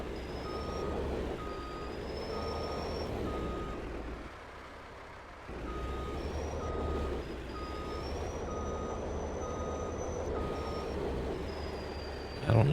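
Truck in Farming Simulator 22 on the Elk Mountain, Wyoming map, reversing a trailer, with a steady repeating backup beep over a low engine drone that briefly drops out midway, then resumes before a louder bump at the end.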